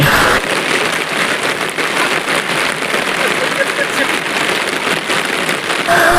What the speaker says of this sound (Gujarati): વરસાદ એટલો પૂરજોશમાં પડી રહ્યો છે